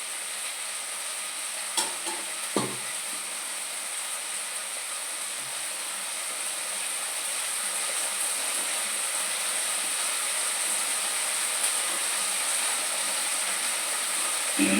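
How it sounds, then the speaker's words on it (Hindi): Kadhi, a yogurt-based curry, boils in a pot with a continuous soft bubbling hiss and simmer, steady and close, broken by a couple of faint utensil taps. "कड़ी भी देखिए मेरी खूब खदक चुकी है"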